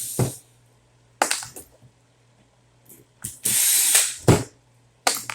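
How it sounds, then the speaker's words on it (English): Screws being backed out of the header plug on a 2JZ-GE engine with a ratchet, giving several short, close metallic ratcheting bursts separated by quiet pauses, with one longer run of clicking partway through. "pull these screws out"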